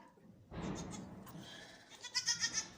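Newborn twin goat kids bleat on a farm just after birth: a soft rustling stretch, then a series of four or five short, high, close bleats in quick succession near the end.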